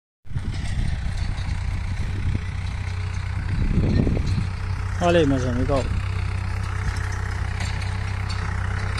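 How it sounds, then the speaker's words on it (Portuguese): A tractor planting beans in a field runs steadily with a low, continuous engine drone throughout, heard from nearby while someone speaks over it in Portuguese. "o trator já está plantando ali"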